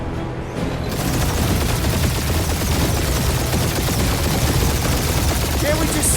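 Sustained gunfire in the Guardians of the Galaxy video game, a dense, continuous barrage of shots and booms running loud through nearly the whole stretch after a brief quieter start, with no spoken words.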